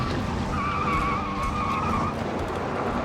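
A car brakes hard at about 20 mph and skids through a J-turn, its tires squealing steadily for about two seconds over a close engine and road rumble.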